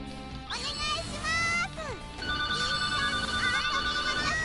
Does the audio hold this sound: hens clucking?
no